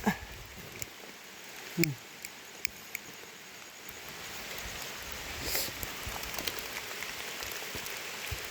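Rain falling outdoors in a soft, faint patter, with scattered drips and a few louder knocks and rustles close by.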